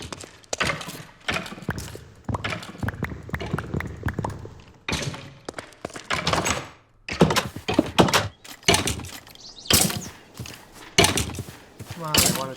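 A crank-powered gun in modded Minecraft fires cobblestone, producing repeated hollow thunks and thuds in an irregular sequence, with someone talking between and over the shots.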